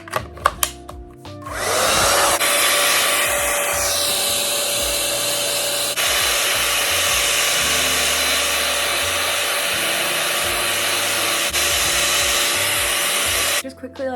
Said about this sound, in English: Just quickly like rough dried my hair with like the warm setting